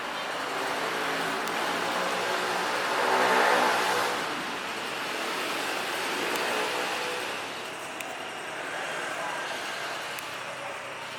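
A Lion Air Airbus A330 takes off at Soekarno-Hatta airport: a broad, steady roar that swells to a peak about three seconds in, eases, then holds at a lower level, with faint voices in the background.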